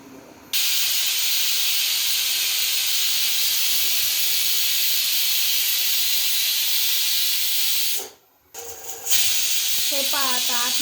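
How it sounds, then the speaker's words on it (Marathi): A pressure cooker steaming kothimbir vadi gives a loud, continuous hiss of escaping steam. The hiss cuts out briefly near the end, then resumes, and a voice is heard at the close. "हे पहा आता 8-9 शिट्ट्या झाल्यात कुकरच्या"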